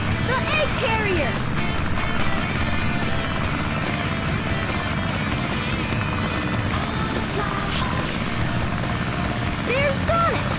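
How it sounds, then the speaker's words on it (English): The blue Tornado biplane flies in Sonic Adventure with a constant loud propeller-engine drone, overlaid by game voices and chatter for about ten seconds. "This plane's cool."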